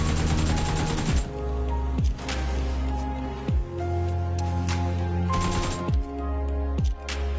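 Gunfire in the video game PUBG, repeated loud sharp shots in clusters over several seconds, each crack followed by a brief ringing tail, with a steady background hum and no talking.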